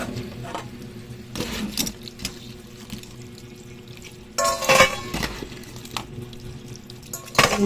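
Clattering and scraping of crabs being put into a metal pot, with sharp knocks and rattles in bursts amid faint running-water sounds, close by.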